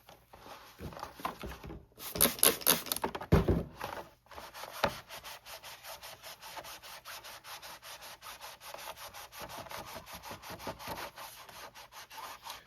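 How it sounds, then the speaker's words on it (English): Soft cloth rubbing over a vintage Kenner Knight Rider KITT cardboard toy box, close dry scuffing strokes, louder and denser early on, then a steady run of quick rhythmic wipes, no talking. "I'm actually just going to put it on this soft cloth and just sort of wipe down the entire box."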